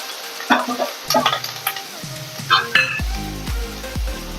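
Garlic, green chili and onion hit hot mustard oil and fry with a close, steady sizzle, broken by several clanking stirs of a utensil against the pan and no talk.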